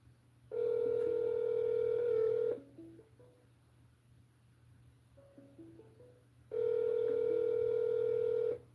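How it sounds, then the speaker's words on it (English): Two long steady telephone dial tones from a Google Voice call being connected, each about two seconds, separated by a stretch of quieter line hiss with a few faint stepped beeps, clear and close with no voices. "And Google Voice will try to connect you."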